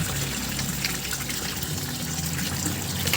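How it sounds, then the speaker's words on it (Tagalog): Water drains steadily from a tilapia fry pond as a continuous rushing, gushing flow, loud and close, with no pauses and no voices. "para madrain nato ang tubig"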